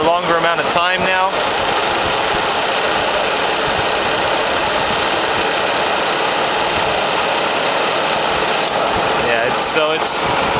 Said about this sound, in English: the compressor is running for a longer amount of time now